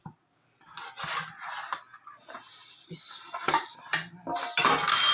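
Pizza being served from a pan onto a plate, with close clinks and scrapes of utensil against cookware in short irregular bursts and no talking.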